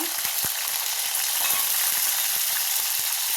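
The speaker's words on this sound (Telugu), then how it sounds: "పచ్చిమిరపకాయలు మంచిగా ఫ్రై అవ్వాలి" Green chillies frying in a pan for an ivy gourd chutney, a continuous close sizzle broken by quick clicking taps of a utensil, with no speech.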